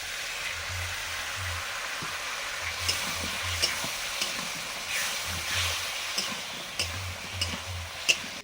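Crushed ginger with turmeric and chilli mixed in water goes into a frying curry, raising a loud continuous sizzle with bursts of steam and occasional clinks from stirring, and no talking.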